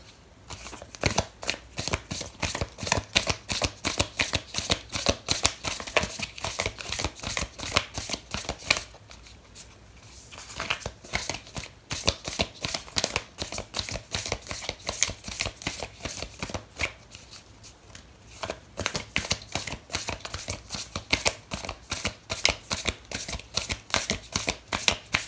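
Oracle cards are shuffled close up in long runs of rapid, crisp riffling flutters, with two brief pauses where the shuffling stops before starting again.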